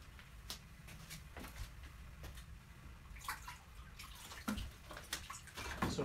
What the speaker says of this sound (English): I want to be able to water this pretty quickly